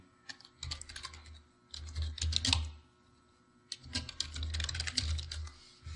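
Fingers tap quickly on a computer keyboard in two bursts, with a short pause between them. The keystrokes are close and clear, with a soft thud under the clicks.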